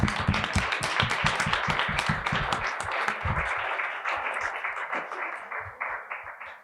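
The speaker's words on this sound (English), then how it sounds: "just a round of applause for the panel" Audience at a photojournalism panel event giving a round of applause, many hands clapping steadily and close, then thinning out into scattered individual claps as it fades.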